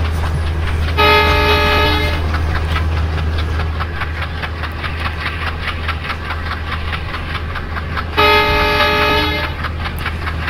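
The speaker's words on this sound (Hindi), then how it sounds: "आप लोग चगिंग साउंड को भी ज़रा एंजॉय करो" A locomotive in a train simulator game chugs with a steady low engine rumble and repeated rhythmic track beats. Two long horn toots sound, one early and one near the end, with no talking.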